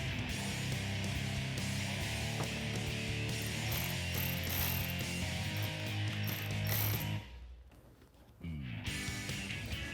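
A nut on a wire terminal being tightened during an LED light strip install on a 2021-2022 Ford Bronco: continuous ratcheting clicks, fairly faint, that pause briefly near the end and then resume.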